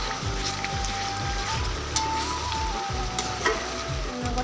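Chicken pieces fry in oil in a pan and are stirred, giving a steady close sizzle with repeated scraping and clinking stir strokes throughout, with no talking.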